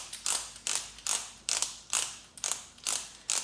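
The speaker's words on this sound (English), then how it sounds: "Zero out my torque wrench again." A torque wrench being zeroed during an engine teardown: seven evenly spaced ratcheting clicks, close and crisp, with nothing else heard.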